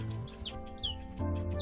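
A group of eight young chicks peep and cluck while chasing one that holds a caught insect, a soft, close stream of short chirps and bright call notes with no voices.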